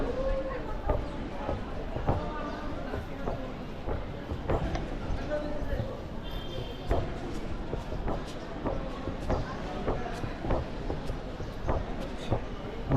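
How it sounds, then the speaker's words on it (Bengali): Meter gauge train at Dhaka railway station, with a rhythmic clatter of repeated clicks and knocks over a busy platform hum while people talk nearby. "আচ্ছা, এটা মিটার গজ ট্রেন।"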